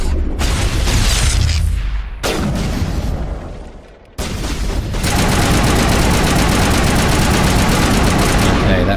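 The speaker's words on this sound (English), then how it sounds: "Let's chuck a grenade." A grenade blast booms amid heavy weapon fire in the Mass Effect video game, with loud, dense bursts of gunfire and explosions, a brief dip, then a sharp, sustained roar of combat.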